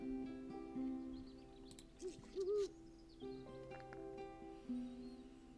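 A Great Horned Owl card sound in the Wingspan digital board game gives a few deep, low hoots spaced apart, with faint clicks and no talk.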